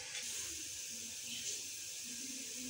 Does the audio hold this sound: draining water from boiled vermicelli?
yes